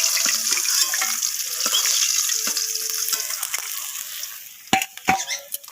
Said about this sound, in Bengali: তো আমি এই তেলের মধ্যে বাকি মাছগুলোকেও দিয়ে দেবো।